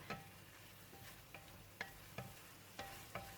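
Cauliflower with curry powder sizzles gently in a pan while a utensil scrapes and stirs in regular strokes, about one every half second, quiet and close.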